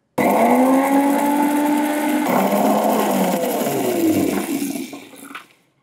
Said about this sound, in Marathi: मिक्सरमध्ये फिरवून हे बारीक दळून घ्यायचं.